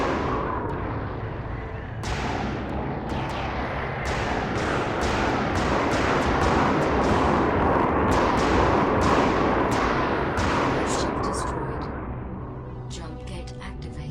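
Torpedoes and homing missiles explode repeatedly in the space game BossConstructor 3, a dense run of booming blasts and sharp hits that swells loud mid-sequence and then eases.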